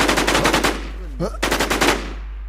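Rapid bursts of automatic gunfire in the online survival shooter Infestation, loud and near, with two clusters of quick shots split by a short pause while a voice briefly talks over the gap.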